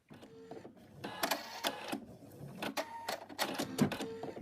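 An in-the-hoop embroidery machine stitches the outline of a moose's muzzle, giving quiet rapid mechanical bursts of needle clatter separated by short pauses.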